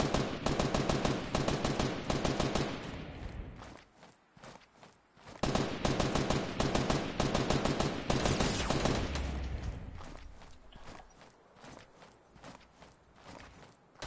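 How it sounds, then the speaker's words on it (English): Rapid gunfire from several players in Fortnite, dense automatic bursts and crackling shots coming in waves, loud and close, dropping away briefly around the middle before resuming, then fading toward the end. "Every single one of them are shooting at me."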